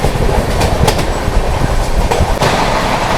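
Onboard the 12329 West Bengal Sampark Kranti express running at decent speed past Shaktigarh: a loud, steady rumble of wheels and carriage with faint rhythmic clacks, no talking.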